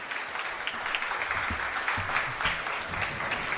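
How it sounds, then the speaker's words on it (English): An audience claps steadily for a man walking up to the front, a moderate, even patter of applause with a few louder hits and no voices over it. "He needs a long applause."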